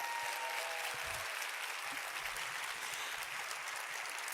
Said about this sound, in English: applause for the Women in Tech team.